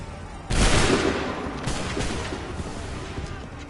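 A volley of musket fire in Assassin's Creed 3 Remastered erupts at once as a loud crashing blast, then rumbles and fades into scattered echoing shots.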